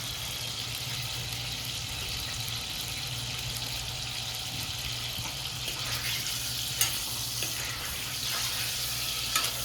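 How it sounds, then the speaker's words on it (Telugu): Paneer cubes frying in hot oil in a pan, giving a steady, soft, close sizzle with faint stirring clinks and no talking. "నేను మాత్రం ఆయిల్లో ఫ్రై చేస్తున్నాను"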